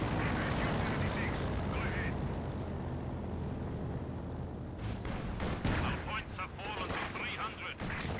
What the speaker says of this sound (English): Assault guns firing at the center there.